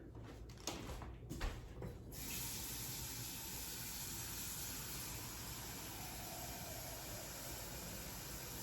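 A few soft clinks, then a steady rushing stream of water pours continuously into a measuring cup, filling about 2 cups over several seconds.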